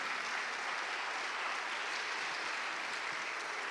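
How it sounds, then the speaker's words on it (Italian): Audience applause inside a church during an evening awards ceremony, a dense, steady wash of many hands clapping at even loudness throughout, with no voices on top. "Io direi di fare un applauso intanto"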